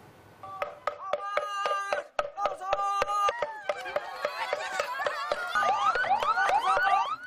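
A rapid, clattering series of sharp rhythmic knocks from a wooden slit drum (kentongan) layered with a wavering siren, a landslide early warning in the Menoreh hills, Yogyakarta, both loud and continuous, with no voices.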